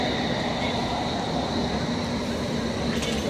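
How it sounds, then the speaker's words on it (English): A London Underground Metropolitan Line S8 stock train pulls into Moor Park station with a steady, dense rumble and roar that stays loud and even throughout. "incoming now we have our Metropolitan Line service, S8 stock, number 427"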